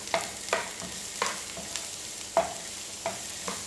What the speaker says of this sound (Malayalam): സവാള ചേർത്ത് നല്ലപോലെ ഒന്ന് സോട്ട് ചെയ്യണം. ചെറുതായിട്ട് അതിൻ്റെ കളറൊക്കെ ഒന്ന് മാറി വരുന്നവരെ ഹൈ ഫ്ലെയിമിലിട്ട് വേണം ഇതൊക്കെ ചെയ്യാൻ